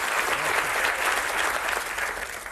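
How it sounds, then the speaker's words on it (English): Steady applause from a studio audience greeting a darts player on a game show, a dense continuous patter of clapping at moderate loudness throughout, with no talk over it. "Nice applause there for you, Bill."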